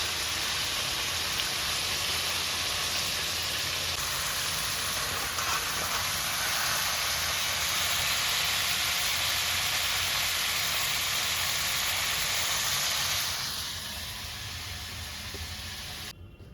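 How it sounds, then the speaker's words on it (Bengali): Beef goulash meat sautés in a mix of oil and butter in a wok, giving a steady, dense hiss of sizzling close by that eases slightly toward the end. "এই কড়াইতে তেল আর মাখন অর্ধেক অর্ধেক দিয়ে সতে করেছি গুলাশের মাংস।"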